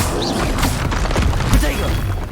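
Spell blasts in Hogwarts Legacy, a quick series of magical booms, crackles and thuds layered over one another in a short busy burst, with a voice talking over them.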